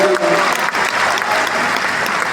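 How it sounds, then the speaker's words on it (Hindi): Steady, dense applause from a large audience at an anniversary event in Indira Gandhi Stadium, Delhi, loud and continuous throughout with brief traces of voices. "अपने आप थोड़ी सी ताली बजा दो अगर अच्छी बात लग रही हो तो"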